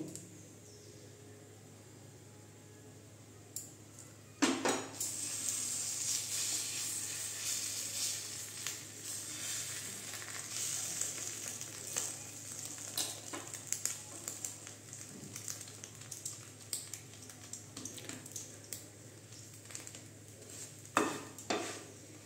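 Beaten eggs for an egg paratha fry steadily in a hot pan, a broad continuous sizzle that starts abruptly after a sharp clatter and carries on with occasional scraping and utensil knocks, no talking.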